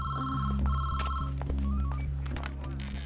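A telephone rings in repeated bursts over a low steady hum, a call placed to a police station, with faint voices and room noise in the background.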